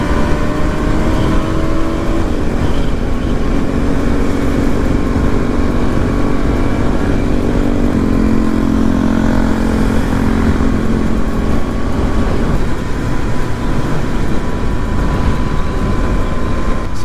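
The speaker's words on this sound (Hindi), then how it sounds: "क्या ही साउंड आ रहा है भाई बाइक का" A 220 motorcycle engine roars steadily and loudly throughout on an off-road jungle ride, with a sustained droning hum and shifting tone as it rides along.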